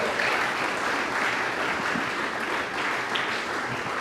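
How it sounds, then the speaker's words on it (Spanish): Steady applause from a church congregation during a Spanish-language worship service, a dense continuous wash of clapping that holds evenly for the full duration. "Bríndele un fuerte aplauso al Señor"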